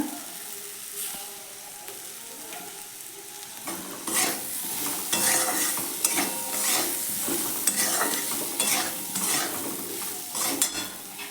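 Cauliflower and grated ginger sauté in a pan, a steady sizzle with repeated scraping and stirring strokes that grow busier partway through; no one speaks.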